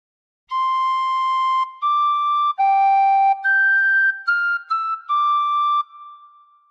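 A tin whistle plays a melody as a slow run of clear, sustained, bright notes, each held before stepping to the next, alone and close, ending with a soft fade.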